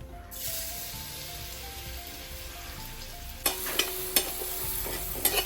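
Chopped garlic sizzles in melted butter in a pan for a creamy chicken mushroom pasta, a steady close frying hiss, then sharp clinks and scrapes of stirring near the end.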